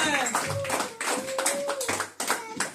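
A church congregation claps in a steady, rhythmic beat of bursts about twice a second, with voices singing or calling over the clapping.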